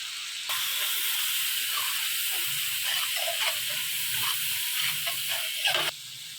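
Spiced aubergine gravy with turmeric, chili powder and salt sizzles steadily in a pan, a bright continuous hiss flecked with small pops and stirring scrapes, stopping abruptly at the end.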